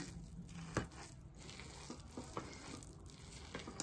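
Cooked pulagam of rice and lentils is stirred in a pot, giving soft wet scraping and squelching with a few light clinks of the spoon, faint and close with no talking.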